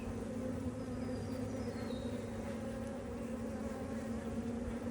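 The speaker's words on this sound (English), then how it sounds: "A lot of bees right there too." Honey bees swarm around an open hive frame, giving a steady, close, low droning buzz that holds without pause for several seconds, with no talk over it.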